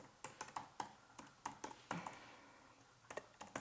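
Typing on a computer keyboard, a run of close, quiet key clicks in short irregular bursts with brief pauses, heard alone.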